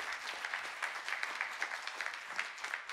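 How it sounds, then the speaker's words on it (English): Applause from a conference audience marking someone's 40th birthday, a fairly quiet, even patter of many hands clapping throughout, heard from some distance. "So let's give him an applause for his birthday as well."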